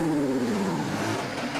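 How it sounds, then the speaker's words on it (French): Chevrolet V6 IndyCar engine at Sebring, a loud close burst of revving whose pitch sweeps downward, heard alone. "Ces mécaniciens réveillent le V6 Chevrolet et voilà le Californien de retour en piste"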